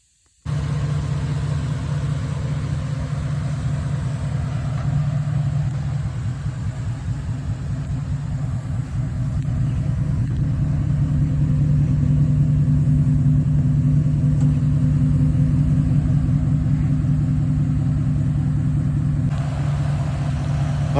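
A 2003 Ram pickup truck on a test drive after a front-end rebuild, its engine a steady low rumble with road noise that holds constant and slightly rises partway through, close and continuous with no talking.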